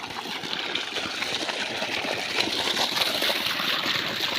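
Water gushes from a borewell pump with a six-foot motor, a continuous hissing splash that runs steadily and fairly loud for several seconds, alone without voices.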